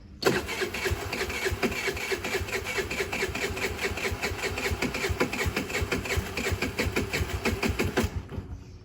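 A 1995 Honda Shadow VT600C motorcycle engine cranks and fires, then runs with a rapid, even mechanical rhythm, close and steady for several seconds before cutting off abruptly at the end.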